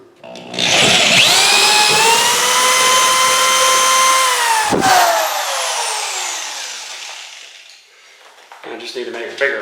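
A power drill whines steadily while boring a hole in an outlet box, its pitch dipping as it slows and stops, followed by a brief clatter.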